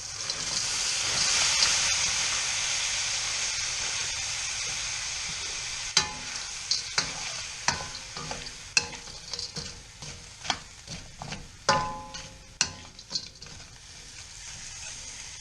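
Frozen vegetables hit a hot pan with chicken and sizzle loudly, the hiss fading steadily before a run of sharp scraping and clacking stirs from a utensil against the pan.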